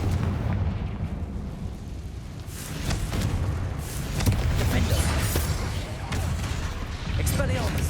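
A Confringo fire spell in the Hogwarts Legacy video game goes off as sharp booming blasts over a constant rumble of combat noise, with a voice partly audible underneath.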